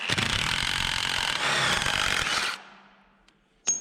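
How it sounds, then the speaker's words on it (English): An impact gun rattles hard and close for a couple of seconds as it backs out front suspension bolts on a Datsun 240Z, then stops with a faint ringing tail and a short metallic clank. "as you're going off with your impact gun, pull with your hand"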